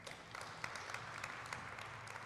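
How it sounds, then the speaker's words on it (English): Faint, steady applause from a crowd at a school graduation ceremony, distant and even, with a few sharper individual claps standing out across the short stretch. "All right, clap them up."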